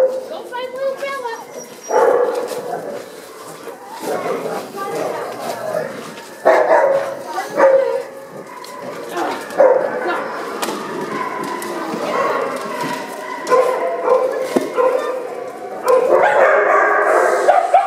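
A puppy in a small room barks, yips and whimpers repeatedly in short bursts throughout, close and fairly loud, while someone talks affectionately over it.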